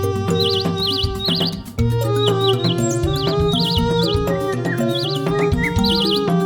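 Birds in the Amazon rainforest chirp and tweet in quick repeated bursts near the water's edge, several calls overlapping against a steady background hum, with no voices.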